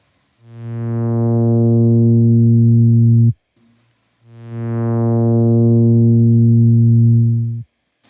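Two long synthesized buzzy tones, each swelling in gradually before holding steady and cutting off abruptly, separated by a short pause.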